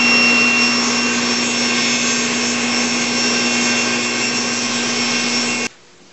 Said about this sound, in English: Go ahead and joint the edge so that it's nice and straight.